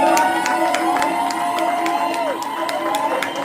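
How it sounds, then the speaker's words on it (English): Crowd at the 2024 National Hip-Hop Museum Grand Induction Ceremony cheering, whooping and clapping loudly for historian Jay Quan, a dense sustained roar of applause with scattered shouts throughout. "the one and only, round of applause"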